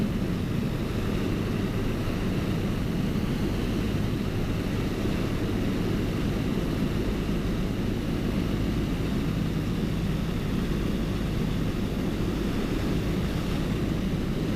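Steady, close drone of a Piper PA28 Cherokee light aircraft's engine turning final for a touch and go, with continuous cockpit rumble and wind noise throughout and no breaks.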